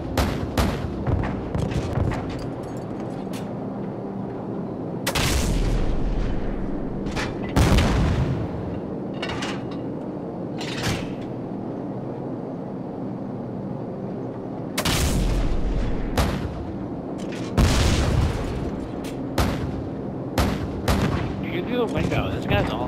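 Heavy cannon fire from an AC-130 gunship in Modern Warfare 2, a Search and Destroy match on Scrapyard, with several loud booming blasts at intervals over steady game noise and a talking voice.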